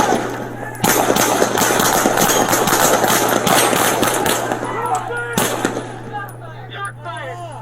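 A police officer fires rapid gunshots in a loud, close burst of sharp cracks at an officer-involved shooting in Albuquerque, over a steady engine idle. A second shot follows later as the sound fades.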